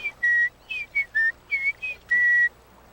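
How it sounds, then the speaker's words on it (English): Call of a scarlet-spectacled wattle-eye in the Gambia, a series of about seven clear, pure whistled notes, some level and some sliding, ending on a longer held note, fairly close with no talk. "That's the call of a scarlet spectacled wattle eye."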